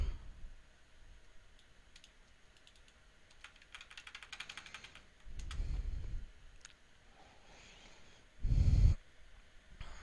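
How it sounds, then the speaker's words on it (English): Typing on a computer keyboard, quiet bursts of rapid key clicks separated by pauses, with a couple of louder thumps, close by and without talk. "Let's type that item in."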